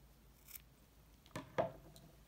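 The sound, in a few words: scissors cutting knitting yarn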